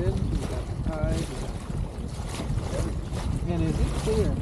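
Wind rushes and buffets across the microphone on a small sailboat out on Tomales Bay, a steady loud roar with gusty swells throughout and faint tonal hints of voices or rigging beneath.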